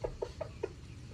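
Chickens cluck in a vegetable garden, four or five short clucks heard fairly faintly at a distance over a low background rumble.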